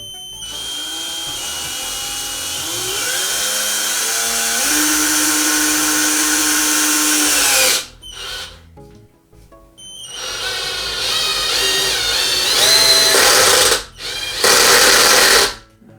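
A small cordless drill whines and strains as it drives a screw into beech hardwood on the screw setting, pitch rising and falling, stopping briefly midway before revving loudly again in short bursts.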